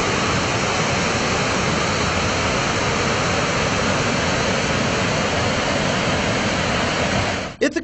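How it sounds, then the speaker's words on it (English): A waterfall among the gorges of Ithaca pours with a loud, unbroken broadband roar that holds steady throughout before cutting off abruptly at the end. "Ithaca is known for its waterfalls, gorges, and creeks that pour into Cayuga Lake."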